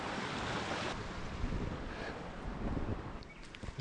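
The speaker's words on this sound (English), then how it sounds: "I can hear water rushing down on this side and the other side." A small river in the Ugandan jungle produces a steady, broad rushing of water, mixed with some wind buffeting on the microphone and no talking.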